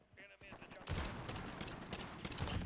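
Dragunov sniper rifle fire in a Call of Duty match: after a brief lull, dense bursts of game gunfire crackle and pop loudly and continuously, with a voice faintly under the start.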